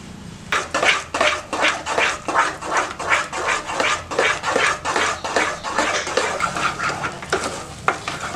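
A spoon or spatula scrapes and stirs thick halwa in a pan in rapid, continuous, rhythmic strokes, loud and close, with a faint sizzle beneath.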